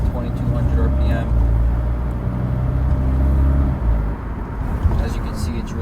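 A 2023 BMW 330i LCI with its resonator deleted cruises in comfort mode, short shifting around 2200 RPM, heard from inside the cabin as a steady, subdued low engine and road drone with only slight dips in level.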